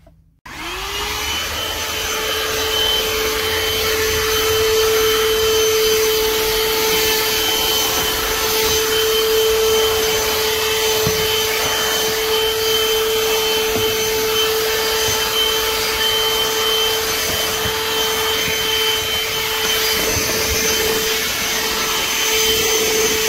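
A Black+Decker Dustbuster QuickClean cordless handheld vacuum switches on after a brief silence, then holds a loud, steady motor whine with airy rushing for over twenty seconds.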